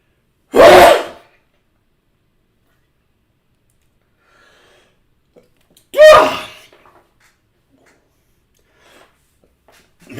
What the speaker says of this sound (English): attack of the sneeze